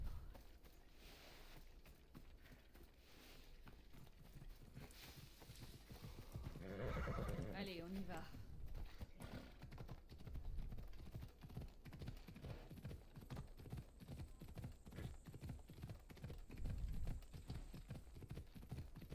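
Donkey mount galloping in Assassin's Creed Odyssey, a steady rapid clip-clop of hooves running throughout with a whinny partway through, under game ambience and someone talking.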